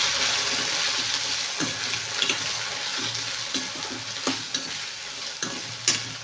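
Vegetables frying in coconut oil in a pan, a continuous bright sizzle with repeated scraping stirs and clacks of a spoon at irregular intervals, close and fairly loud.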